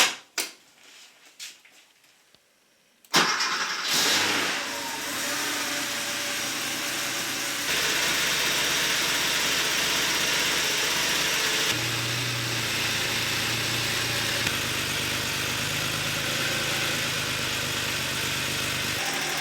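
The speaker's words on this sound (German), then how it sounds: "müssen wir das Fahrzeug nun warm laufen lassen." A Porsche 911 G-model 3.2 Carrera starts after a few seconds of quiet clicks, then settles into a steady, moderately loud idle warming up, with a slight shift in engine tone partway through.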